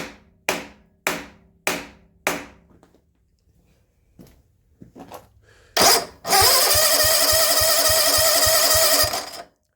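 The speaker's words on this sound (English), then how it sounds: "if I smack this with a hammer" Five sharp metallic hammer strikes on an ignition coil in a steady rhythm, a pause with faint clatter, then a Sears ST16 lawn tractor's small engine bursts to life and runs loudly.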